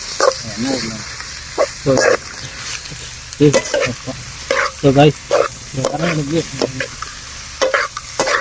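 Village-style chilli chicken pallipalayam is stirred in a wok over a firewood fire, with steady scraping and sizzling and bursts of louder stirring as people talk nearby.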